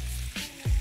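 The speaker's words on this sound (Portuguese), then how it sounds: "E já põe esse alho delicioso na frigideira" Garlic hits a hot frying pan with bacon, giving a brief close sizzle with a soft low thump near the end.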